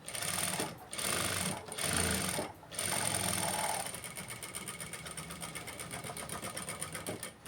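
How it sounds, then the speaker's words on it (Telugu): A sewing machine stitches around a blouse neckline in a steady, close, rapid mechanical chatter, with short pauses early on before it runs continuously. "నెక్కు చుట్టూ మెల్లగా కుట్టాలి"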